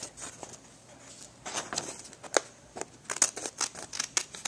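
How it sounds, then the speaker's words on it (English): Scissors snipping around a rub-on image held over a domino, a string of quick, light cuts that grow busier and slightly louder toward the end, close and quiet with no voices. "It's always good to cut out the rub-ons"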